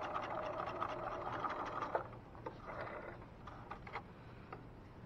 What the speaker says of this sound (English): When you get to the other edge of that opening where you remove the pins, you're going to backstitch.